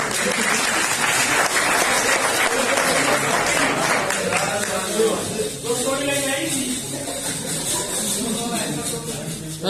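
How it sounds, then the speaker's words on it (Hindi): Audience applause at a Modicare business opportunity and recognition meeting in Hisar, a loud dense wash of clapping that runs through the whole stretch, with voices and cheering mixed in. "तालियां बजती रहे यार"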